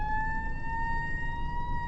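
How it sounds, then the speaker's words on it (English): An ambulance siren on the road wails steadily and loudly with a sustained tone over low traffic rumble, heard from inside a vehicle making delivery rounds. "Ambulance is coming."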